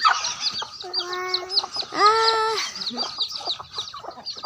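Chickens cluck and chatter busily, with a couple of longer drawn-out calls rising above the steady flock noise nearby.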